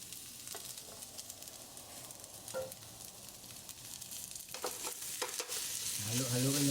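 Cold rice seasoned with pepper and salt sizzles in a pan for omelette rice while a utensil stirs and scrapes through it to break up the grains; the frying grows louder and fuller toward the end.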